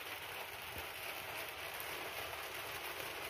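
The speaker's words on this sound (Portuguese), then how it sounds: "se eu ficasse lá ia tomar a chuva" Rain falling steadily at a beach fishing spot, an even hiss of drops with no breaks, heard from a short distance.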